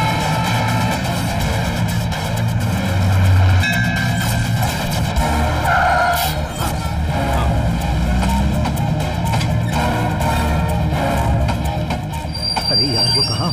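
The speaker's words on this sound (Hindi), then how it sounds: "ट्रेन तिरुपति पहुँचने ही वाली है" A passenger train runs on toward Tirupati with a steady, loud rumble and metallic wheel squeals, while voices speak over the noise.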